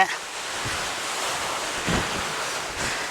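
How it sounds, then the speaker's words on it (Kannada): Strong wind roars across the microphone in a continuous broadband rush, with a few heavier gusts thumping low. "ಗಾಳಿ ತುಂಬ ಬೀಸ್ತಾ ಇದೆ"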